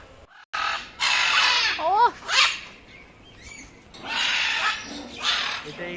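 Blue-and-yellow and red-and-green macaws in a netted zoo aviary in Kolkata let out harsh, raspy squawks in several loud bursts, with shorter bird calls in between.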